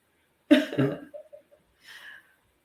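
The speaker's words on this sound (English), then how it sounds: "I have to cough again." A single close, sharp cough burst followed by a smaller cough and a faint breathy exhale, with brief silence around it.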